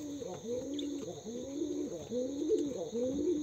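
A satin pigeon chick coos steadily beside its nest, a close, soft, repeated warbling coo with gentle rising and falling phrases and no talk over it.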